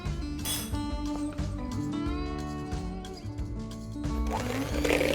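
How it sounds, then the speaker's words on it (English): A small hand mixer creaming sugar and butter in a bowl, a steady whirring motor tone that shifts pitch slightly as it moves around the bowl, loud and close. "if you have a small hand mixer, you want to go around nicely, making sure it evenly distributes"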